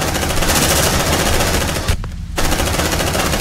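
Sustained automatic gunfire in the sci-fi combat game Aliens: Dark Descent, a loud, dense continuous burst that cuts out briefly for a fraction of a second before resuming at full intensity.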